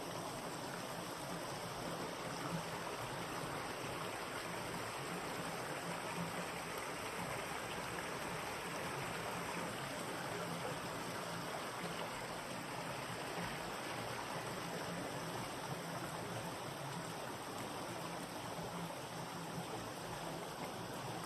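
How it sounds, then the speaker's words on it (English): Water in a stream flows under a bridge in a quiet natural setting. It makes a steady, even rushing that runs continuously without talk. "Listen to the water."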